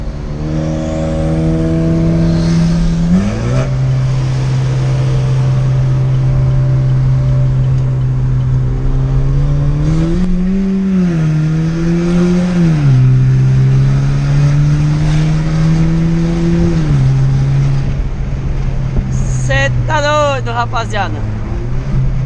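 A Chevrolet Tracker Premier 1.4 turbo with a Stage 2 remap, downpipe and modified exhaust, driven in racing mode, drones steadily, then surges in pitch several times as it accelerates hard through shifts, loud and close throughout.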